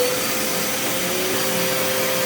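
A vacuum cleaner runs on carpet with a loud, steady motor roar and a constant whine. The hum is close and unbroken, with no speech over it.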